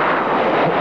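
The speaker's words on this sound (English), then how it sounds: "or using the afterburner climbing at 80 degrees" A jet aircraft climbs almost straight up on afterburner, giving a loud, continuous, broad roar with no breaks.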